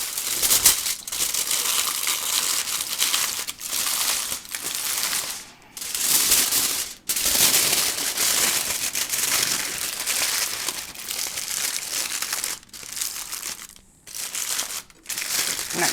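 Aluminium foil crinkles continuously and loudly at close range as it is wrapped over parchment around a bacon-wrapped pork loin, with a few brief pauses and no talk.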